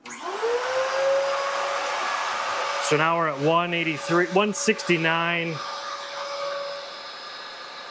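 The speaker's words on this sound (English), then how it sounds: "So let's turn that vacuum back on." A vacuum cleaner powered from a MidNite Solar PowerFlo 16 wall-mount battery starts with a rising whine and settles into a steady motor hum while someone speaks over it.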